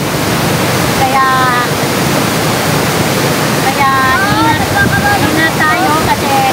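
Steady rushing river water flows loudly and continuously, with birds chirping above the wash in a couple of bursts.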